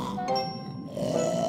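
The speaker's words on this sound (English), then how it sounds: "Is he snoring?" A cartoon elephant seal gives a short, rough snoring grunt, a single nasal snort up close, heard on its own without talk.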